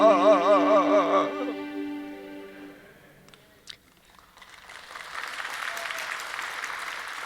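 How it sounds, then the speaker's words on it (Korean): A church congregation breaks into applause after a sung hymn fades out; the clapping rises after a short quiet gap and continues moderately, with soft, diffuse hand claps filling the hall. "그 박수 치는 마음은 참 귀한 마음입니다."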